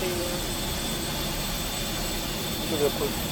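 Avro Vulcan XL426 jet engine runs during an engine start sequence, a steady, moderately loud whine and rumble with a faint high tone, continuous and alone.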